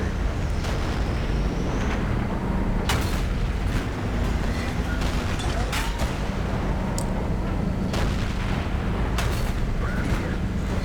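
Tank cannon shots in an online tank battle game, with the Lorraine tank firing from afar: several sharp booms spaced irregularly over a constant rumbling engine bed, moderately loud.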